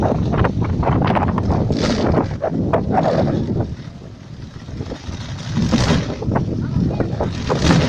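Strong wind buffets a boat in a steady, roaring rush with gusty swells, while voices talk and call out over it.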